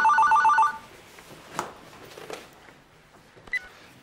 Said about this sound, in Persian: من می‌ذارم یه لحظه جواب تلفن رو